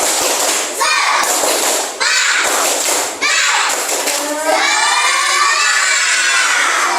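A classroom group of children does a rhythmic spirit clap, with bursts of sharp clapping and excited young voices chanting and shouting together, loud and close.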